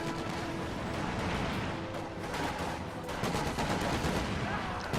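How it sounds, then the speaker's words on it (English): Rapid bursts of M3 machine gun fire in a strategy video game crackle through a dense, continuous barrage of battle noise, fairly faint and mixed with other gunfire and impacts. "There's the M3 gunning down the Stern Pioneers."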